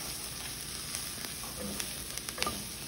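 Leek sautéing in a pan with thyme, sage and bay leaf, a steady close sizzle with scattered faint clicks and taps of stirring, no talk.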